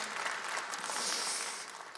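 Applause from a conference audience, a steady broadband clatter of clapping that is moderately faint and sustained throughout, with no talking over it.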